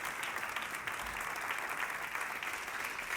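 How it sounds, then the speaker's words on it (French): A crowd applauds steadily and loudly, a continuous wash of clapping hands with no voices over it. "Est-ce qu'on peut l'applaudir encore bien fort pour lui souhaiter la bienvenue?"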